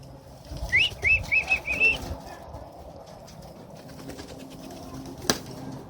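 Racing pigeons return to their loft, wings flapping in a few short close bursts with a quick chirping call, then soft background and a single sharp knock.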